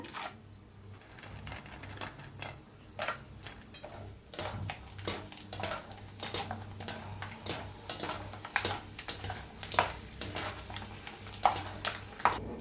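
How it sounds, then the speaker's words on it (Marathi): Almonds fry in hot oil over low gas for crunchy corn chivda, giving a steady close sizzle with frequent sharp clinks and scrapes of a metal utensil against the pan. "आता बदाम तळून घेऊया"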